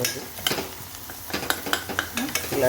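A spoon stirs and mixes a dish in a pan, sounding as a series of close scraping strokes and clinks over a low sizzle.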